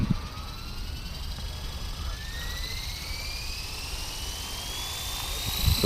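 A Blade 330S RC helicopter spools up with its rotor and motor whine rising steadily in pitch, loud and close, over a rumbling low drone throughout.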